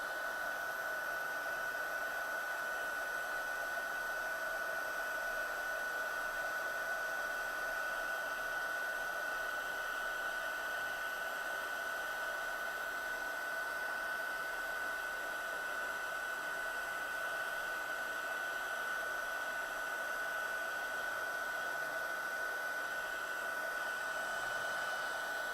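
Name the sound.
heat gun heat-setting embossing powder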